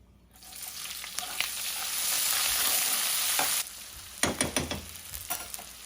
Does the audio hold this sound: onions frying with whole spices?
yes